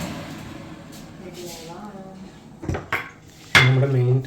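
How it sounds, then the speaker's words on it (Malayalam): Pots, pans and cutlery clatter during washing-up before Ramadan cooking, with sharp metallic knocks and clinks growing louder toward the end, heard over a low background hum. "നമ്മുടെ മെയിൻ ടാസ്ക്കാണ് പാത്രം കഴുകുന്നത്."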